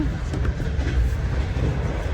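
A Russian passenger train moves through Uzbekistan, heard from inside the carriage as a steady low rumble with faint rhythmic wheel noise, close and continuous.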